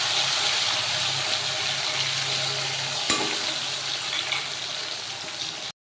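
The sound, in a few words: spice paste of tomato, nuts and poppy seed frying in pan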